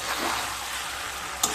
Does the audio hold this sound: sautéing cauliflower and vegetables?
yes